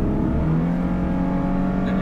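Lexus LC500h hybrid sports coupe driven in manual mode, its engine holding a steady, loud, droning rev as heard from inside the cabin, with no talk over it.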